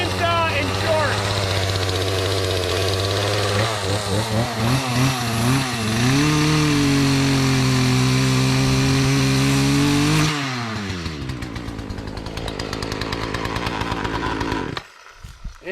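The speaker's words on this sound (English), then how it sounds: "Don't use a chainsaw in shorts." A loud chainsaw roars close by, revving up and down as it bites into wood, then settles to a lower, rougher idle near the end.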